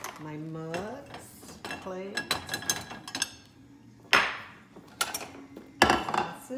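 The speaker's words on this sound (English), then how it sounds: "I like to put the dishes on the counter and then I will put them away after I get them all off." Dishes, mugs, plates and glasses clatter as they are unloaded from a dishwasher, with a string of close, sharp clinks and knocks of ceramic and glass set on a counter at an irregular pace.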